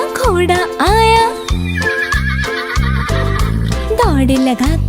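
A horse whinnies with a rising, wavering call a couple of times over a bouncy children's song backed by steady rhythmic music and singing.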